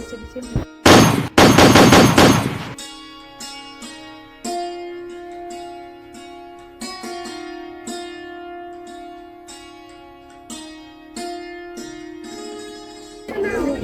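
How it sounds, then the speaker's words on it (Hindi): Soldiers firing guns in a staged freedom-struggle scene, a loud burst of rapid gunfire near the start followed by sustained ringing music-like tones and scattered sharp hits, no talk. "soldiers fire"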